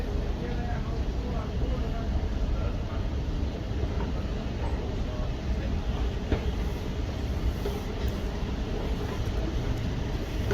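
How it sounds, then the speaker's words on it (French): Steady low rumble of a metro train in motion in Germany, continuous rolling rail noise filling the space at close range without pause. "Comme je vous disais, là, c'est le métro."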